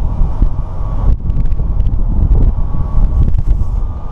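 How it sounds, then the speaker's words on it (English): Steady, loud wind buffeting the microphone, a constant low rumble with gusty flutters and no voices. "It's a little bit windy here, so I hope you can hear me."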